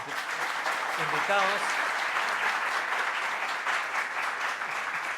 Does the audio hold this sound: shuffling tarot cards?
no